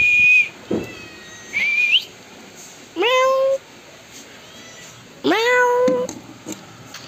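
A male cat meows several times, loud and near, in distinct rising and falling calls with quiet gaps between them.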